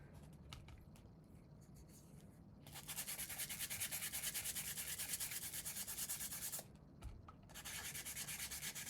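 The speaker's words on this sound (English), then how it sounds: "I will need some 220 to do a little bit of wet sanding with that" Wet sanding of a woodturning with 220 grit sandpaper, a steady loud hissing rasp from about three seconds to six and a half seconds, returning near the end, with quieter scraping and handling before it.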